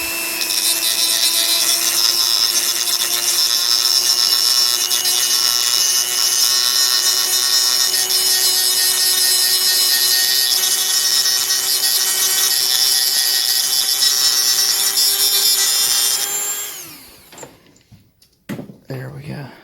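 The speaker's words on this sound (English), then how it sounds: "So I still got the grinder right here." An angle grinder smooths sharp corners during a ProX refresh, giving a loud, steady high whine with even overtones for about sixteen seconds before cutting off, followed by a few brief handling knocks.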